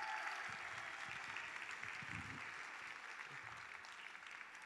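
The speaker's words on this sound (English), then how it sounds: "Ladies and gentlemen, another round of applause for Helen." A dinner audience at an entrepreneurship awards event applauds for an honoree, steady broadband clapping that carries on evenly and fades slightly toward the end, heard from a distance at low level.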